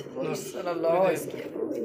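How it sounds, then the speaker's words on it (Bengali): A male pigeon coos in a loft beside a red female, its low rolling calls close and steady over the nearly two seconds, with a voice talking alongside. "লালের মধ্যে ডাকতেছে নর কবুতর"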